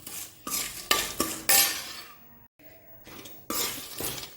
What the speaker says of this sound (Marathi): हलवताना शेंगदाणे सुद्धा कडकड वाजायला लागलेले आहेत